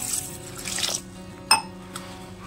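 Water poured into a bowl of basmati rice to soak it, a close, light splashing trickle in a kitchen, with a brief sharper clink of the container partway through.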